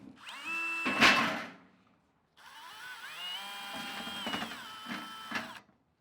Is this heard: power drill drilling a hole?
yes